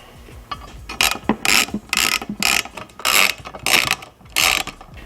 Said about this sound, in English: we just have to screw these on real quick